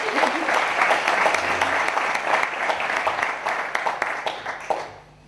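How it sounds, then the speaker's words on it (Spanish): Audience applause for Carmela at a mystery-themed conference in Zamora, with dense, steady clapping from a crowd filling the room for about five seconds before tapering off. "Un aplauso para ella."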